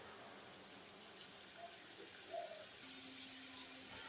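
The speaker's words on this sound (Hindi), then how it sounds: "सब मसाले यकजा हो जाए, तेल ऊपर आ जाए, फिर हम इसमें पानी डाल देंगे।" Water pouring into a cooking pot of fried spices for Hyderabadi paya, a soft steady gushing stream that swells briefly then settles into a continuous fill, faint and close without talk.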